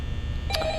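Telephone ringing in the Five Nights at Freddy's video game: a brief electronic ring tone cuts in halfway through over a steady low hum, with no one talking.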